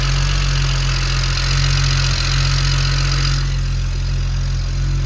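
BMW 335xi fitted with a 6266 turbo runs steadily near the microphone, a continuous low engine drone with a hissing upper layer that eases off after about three seconds.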